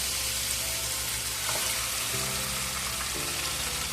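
Fish roe dropped into hot coconut oil in a pan fries with a loud, continuous sizzle and crackle, close by with faint clinks, no talking.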